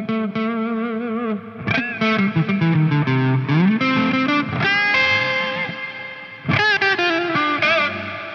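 An electric guitar runs through a Neunaber Expanse reverb pedal, with strummed chords and single notes ringing out into long, lush tails that swell and decay, played loud and alone without any talking.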